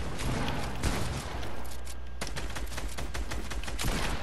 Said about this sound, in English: got the drum gun!